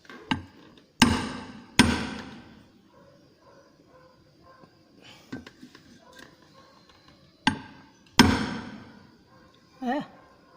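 Parts of a Scorpio gearbox are hammered into place during assembly: several sharp metallic blows land at irregular intervals, some in quick pairs, with quiet voices in the background.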